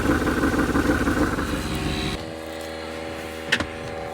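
A 1983 Dodge D150 Prospector pickup engine, parked for 25 years and with an exhaust leak, idles with a throbbing, rough rumble, then shifts to a lower steady drone; a brief clunk sounds near the end.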